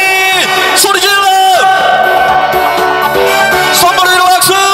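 Crowd shouting and cheering at an outdoor street busking show at Gueup ferry pier on Yeongjong Island, loud and continuous over amplified music with a singer, voices whooping and yelling throughout.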